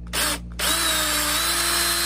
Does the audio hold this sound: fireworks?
no